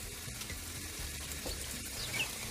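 Butter sizzles and fries in a pan with browned onions, a steady, fairly quiet crackle and hiss with no talking.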